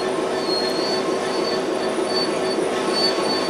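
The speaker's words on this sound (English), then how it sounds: "Stopping a train is one of the biggest challenges of controlling them." In the Train Sim World 3 game, a train brakes to a stop, its wheels giving a steady high metallic squeal over a constant rolling rumble. The sound is loud and continuous, with a faint clickety-clack and no voices.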